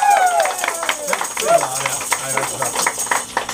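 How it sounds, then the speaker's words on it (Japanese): An audience at a live band show in Osaka claps again for a harmonica player: loose, quick clapping heard under someone talking nearby. "もう一度拍手。"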